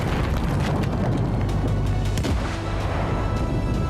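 Airstrike explosion in Lebanon, heard as a loud, continuous, deep rumbling roar that sustains without a distinct onset, with no talking.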